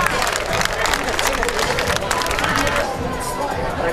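A boxing-night crowd in Francavilla claps and cheers as a trainer is called up to the ring, a dense, steady wash of applause and hubbub with voices mixed in throughout.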